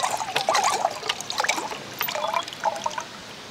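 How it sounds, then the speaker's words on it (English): Mineral spring water pumped into a cup at Central Springs in Daylesford, a close, quiet trickle coming in several short spurts with brief pauses, heard alone. "Let's give it a pump."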